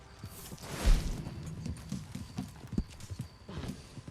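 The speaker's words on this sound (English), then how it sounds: "Why you got that horse at my fire circle?" Horse hooves clip-clop at a slow walk in Red Dead Redemption 2 Online, several soft, fairly close steps with a brief snort, faint under a quiet game background.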